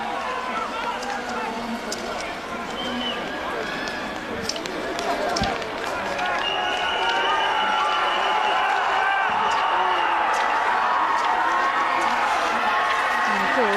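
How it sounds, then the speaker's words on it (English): Roaring, engaged crowd at a men's biathlon relay race in Ostersund, Sweden, a steady loud wash of cheering that swells and holds throughout, with a commentator's voice running over it. "as you hear the roars, this crowd so engaged in the battle for first and second"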